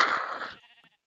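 A sheep bleats once in the Tekkit modpack for Minecraft, loud and close, a wavering cry that fades quickly with a short tail after it.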